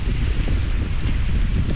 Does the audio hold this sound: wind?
yes